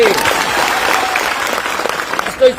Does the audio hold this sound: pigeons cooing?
no